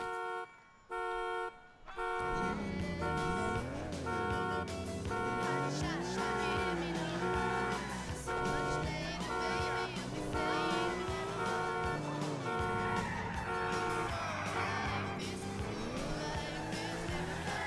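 A Ferrari is driven in a GTA Vice City mod running on the GTA 4 engine, with a steady engine drone whose pitch rises and falls with gear changes and a brief honk at the start, continuous and loud.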